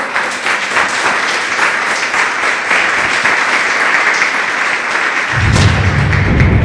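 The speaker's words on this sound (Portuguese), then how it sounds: "Uma vez mais, palmas para o nosso Deus" Congregation applause at a Christian church service in Brazil, a steady dense wash of clapping throughout, with a deep thumping boom entering near the end as a musical outro begins.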